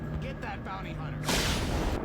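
A loud explosion blasts out in the Star Wars Bounty Hunter video game, a sudden broad burst that swamps the mix after a stretch of game audio and excited talk.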